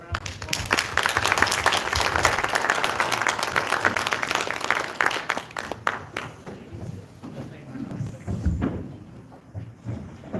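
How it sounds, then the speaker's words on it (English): Audience at a board meeting gives a sustained round of applause that gradually thins into scattered claps, with voices and a few thumps mixed in toward the end. "Let's give these guys a round of applause."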